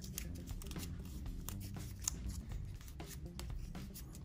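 Paper being creased and folded by hand while making an origami sawed-off shotgun: continuous close rustling and crinkling with small scraping strokes, fairly quiet and steady, with no talking.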